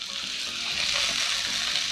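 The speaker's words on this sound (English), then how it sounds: "So we've got some sizzle." Steady, loud sizzling of bacon-wrapped carrots or turkey frying in a hot pan, a continuous crackling hiss with no voices.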